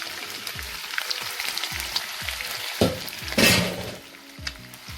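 Smoked turkey pieces drop into hot oil in a saucepan and fry with a steady crackling sizzle, a louder burst of spitting and bubbling partway through as more meat goes in, then settling back to a busy simmer.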